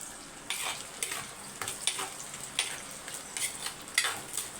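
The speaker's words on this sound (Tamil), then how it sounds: "இப்போ சின்ன வெங்காயம் ஒரு நூறு கிராம் சேர்த்துருக்கேன்" Small shallots, about a hundred grams, fry in hot oil in a pan with a soft, steady sizzle. Rhythmic bursts of stirring and spatula scraping sound close by, with no voices.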